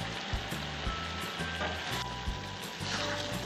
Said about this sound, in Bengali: এরকমভাবে একটু পরপর নাড়িয়ে দিতে হবে।